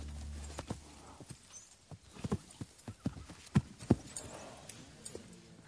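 Hooves of three-year-old Criollo horses clip-clop on the ground in Argentina, a run of uneven, close knocks with a brief whinny near the start, no talking.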